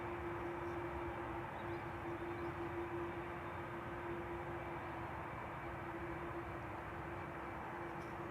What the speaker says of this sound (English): Third airplane, that's the airplane that you probably hear.